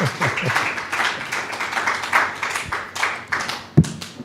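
A louder round of clapping from the audience at a World Environment Day 2025 event on plastic pollution, with dense, bright hand claps rising and falling in waves and one sharp thump near the end.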